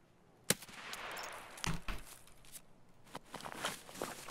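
An AK 545 rifle in a video game fires in short bursts of sharp reports, with scattered footstep-like taps and softer shots between, fairly quiet overall.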